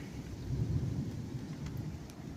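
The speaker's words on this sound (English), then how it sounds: "You can kind of hear the rumble of the thunder in the background there" Low, distant thunder rumbles continuously through a wet rainy outdoor setting, a soft steady roll without sharp cracks.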